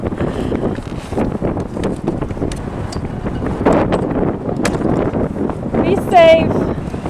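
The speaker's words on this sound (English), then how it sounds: "Oh, it's so windy." Strong wind buffets the microphone at Lake Eufaula as a canoe is pushed off, a steady loud roar under people talking, with a brief high whistle or squeak near the end.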